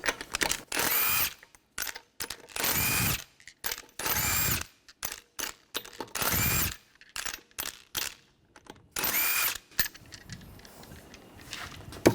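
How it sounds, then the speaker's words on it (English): Power tool spinning off lug nuts with a 19mm socket on a Ford Escape front wheel, repeated short loud bursts with brief pauses between them, close up. "We're going to remove the lug nuts, use a 19mm socket."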